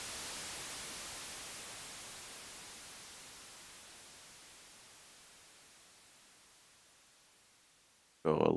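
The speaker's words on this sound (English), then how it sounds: "Some white noise fading in." White noise on an Elektron Machinedrum swelling in slowly under a long attack envelope, a broad steady hiss that gradually thins and fades over several seconds before a sharp loud burst at the very end.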